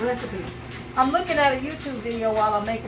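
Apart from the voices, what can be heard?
None of the usual background noises is heard.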